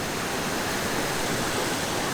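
Spring water pours out at the Roaring River fish hatchery in Barry County, Missouri, a steady, full rushing wash with no pauses, close and moderately loud.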